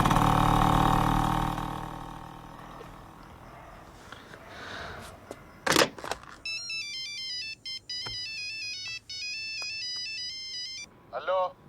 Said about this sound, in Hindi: तेरे किसी दोस्त का फोन आ गया